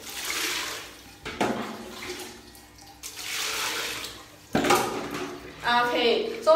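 Aulora pants are hand-washed and rinsed in a basin, with splashing and sloshing water in bursts and pours at close range, and someone talks over parts of it.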